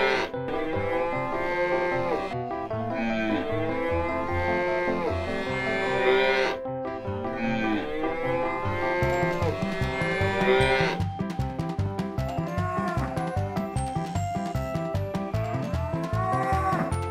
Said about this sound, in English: Wow, the country cows are here.